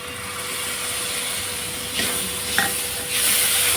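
Tomato with mustard paste and green chilli fries in a pan, a steady close sizzle with a few stirring scrapes near the end and no voices.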